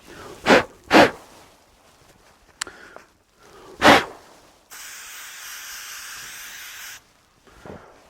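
A steady aerosol spray hisses for about two seconds, preceded by a few sharp bursts of breathy noise, with quiet gaps between.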